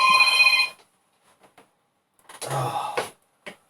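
A landline telephone bell rings in two bursts separated by a pause, fairly close in a quiet room, beside an Atari STE motherboard being re-capped.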